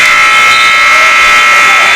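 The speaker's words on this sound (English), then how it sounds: "With the buzzer, we move to period 2 with Ben up front." A loud, sustained electronic buzzer sounds continuously at the end of a period in a high school wrestling match in a gym, ringing steadily for the whole stretch.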